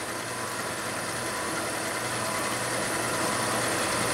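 A brake lathe spins a rear brake rotor off a 2011 Buick Enclave, giving a steady, even mechanical whir with faint vibration that holds unchanged at moderate volume.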